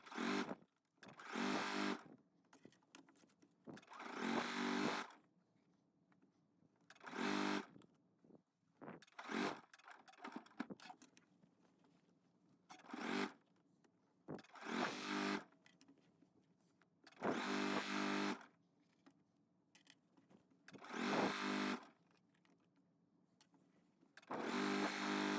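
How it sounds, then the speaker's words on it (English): Bursts of a sewing machine whirring in rapid stitching runs while edge stitching a bodice hem, each lasting a second or two, separated by quiet pauses. "take it to your sewing machine and edge stitch that hem for your bodice"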